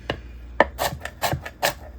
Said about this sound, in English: Just chop that up a bit.